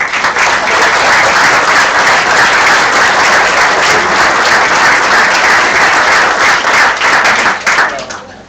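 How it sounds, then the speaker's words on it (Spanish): Loud, dense applause from the audience at a members' meeting of a bird conservation society, sustained clapping filling the room for about eight seconds before tapering off at the end. "Así podemos dar un aplauso"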